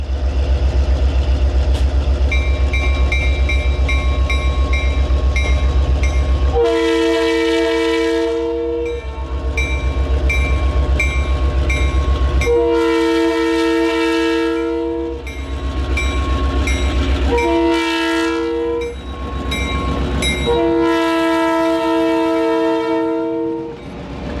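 A freight train horn sounds in several long blasts, loud and close, over the steady low rumble of the moving train, hauled by classic EMD GP9 locomotives departing Jackson on the Jackson & Lansing Railroad.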